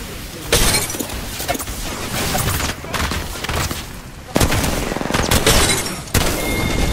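Rapid gunfire from the video game Apex Legends clatters in dense bursts with sharp impact cracks, loud and close, broken by a couple of brief pauses.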